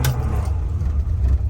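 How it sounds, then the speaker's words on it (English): Restored 1968 Morris Traveller engine catching and running, a low rumbling idle with a brief rev, close up and steady throughout. "Starts nicely. Bit of a rev to get rid of the ignition light"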